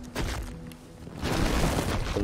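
Muffled bursts of gunfire from somewhere in a residential neighborhood, a quick rattling volley of sharp cracks, loud and rough, running through the whole short stretch.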